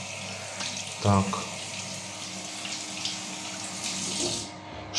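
A bathroom tap runs steadily in a flat in Kaliningrad's Fish Village, giving a soft continuous hiss close by while one voice talks briefly over it.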